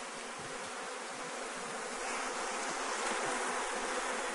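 Honeybees buzz steadily around an open hive, a thick unbroken drone close by that swells slightly midway, with no talking.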